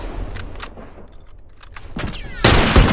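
Rifle gunfire in a video game comes as a few sharp shots early on and ends in a loud final blast, with quieter clicks and rustling in between.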